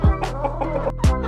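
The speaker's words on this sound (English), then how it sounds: "We have 31 hens" Hens in an indoor chicken coop holding 31 hens and one rooster cluck and squawk close by, with a couple of sharp louder calls over a steady background of low clucking.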